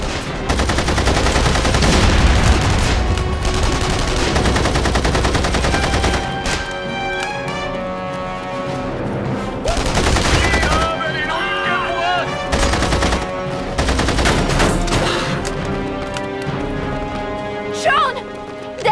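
Gunfire in The Saboteur plays as dense, loud bursts of shots over a music score, fading midway and then returning in sharp clusters, with shouting voices mixed in.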